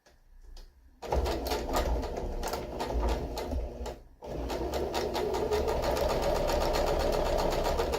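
A sewing machine stitches the corner of a homemade fabric storage caddy: a steady, close mechanical whirring that starts after a second of near-quiet, breaks off briefly, then resumes and runs to the end.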